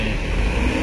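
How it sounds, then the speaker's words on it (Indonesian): A bus drives into an executive ferry dock, giving a loud, steady low engine rumble and road noise in a brief, unbroken burst. "bus masuk ke dermaga eksekutif."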